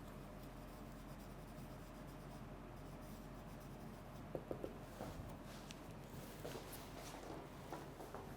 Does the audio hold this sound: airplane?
no